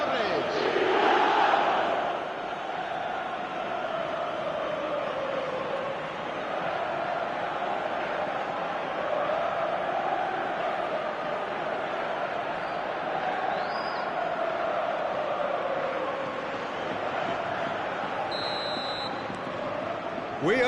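Stadium crowd in the football video game eFootball 2025, a steady roaring wall of fans sustained throughout, with a commentator talking over it.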